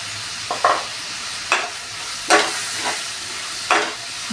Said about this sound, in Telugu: ఉల్లిపాయలు పచ్చిమిరపకాయ కలిపేసి ఇందులో ఉల్లిపాయ ముక్కల్లో కొంచెం ఉప్పు వేసుకున్నాను.